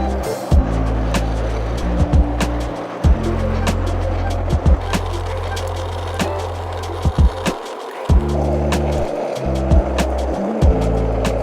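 A braking skateboard rolls down a mellow, gentle trail with a loud, steady close rumble. Sharp clacks break in at irregular intervals over the whole stretch.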